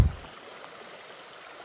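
Cold creek water runs steadily along a trail stop, a soft, constant rush of flow at moderate distance with a faint bump at the start and no voices.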